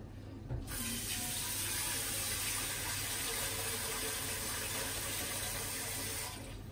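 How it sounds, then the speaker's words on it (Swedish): Water pours steadily from a tap into a roasting pan holding a whole turkey, a continuous close hiss and splash that stops abruptly at the end. "Vi ska sätta vatten i pannan här"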